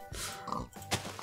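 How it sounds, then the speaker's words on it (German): Pig oinking in the Minecraft video game, a few short nasal grunts in quick succession, faint and close, with no talking. "Ich töte gerade Schweine."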